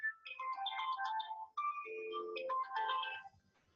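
A mobile phone rings with a melodic electronic ringtone, a close clear run of bright tonal notes that plays alone before fading out.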